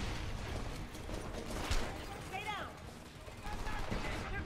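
Gunfire in the shooter video game Homefront, bursts of rapid shots and mechanical weapon clatter over a dense, noisy battle bed, with voices calling out amid the fighting.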